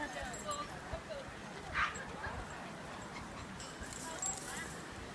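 Dogs give a brief yip and whimper amid rustling outdoor noise, faint and low in level, with soft bursts of handling sound around them.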